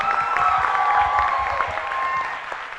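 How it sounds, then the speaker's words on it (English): Audience applause for the two grand finalists at a national school debating championship final, a dense sustained round of clapping from a large crowd, steady and loud throughout the clip with no voices over it. "please give a massive applause for both grand finalists"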